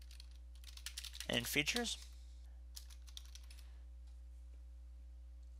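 Someone types on a computer keyboard into the Windows 10 Start menu, with short bursts of close, crisp keystrokes around a brief spoken phrase, then a few scattered clicks.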